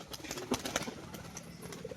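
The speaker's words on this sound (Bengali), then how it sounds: "খুব সুন্দর বাজির পায়রা" Tumbler pigeons coo in soft, short, rounded calls, a few notes close by over faint background noise.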